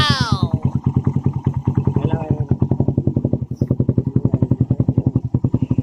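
A Suzuki Raider 150 motorcycle engine idles and revs close by, firing in a fast, even rhythm with a brief rising rev at the start and another around two seconds, tested for misfiring after a CDI replacement; someone talks over it.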